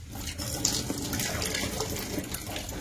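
Water from a microwave pasta maker pours out into a sink, a short, steady splashing rush heard close with no talk.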